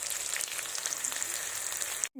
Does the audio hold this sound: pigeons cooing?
no